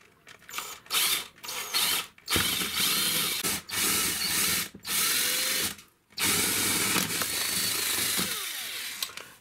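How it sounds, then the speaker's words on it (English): A cordless drill whirs in several bursts drilling a hole, stopping and starting, loud and close, with no talking. "So we're now just going to drill that."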